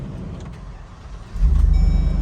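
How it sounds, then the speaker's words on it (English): A truck engine cranks and catches partway through, quiet cab rumble first, then a sudden louder low throbbing idle that settles into a steady pulsing run. "I can start this truck"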